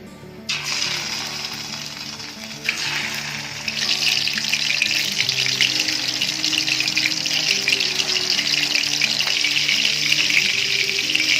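Kofta dropped into about a cup of hot oil in a kadai set up a loud, continuous hiss and crackle that builds after a couple of seconds and stays strong and close, with no talking.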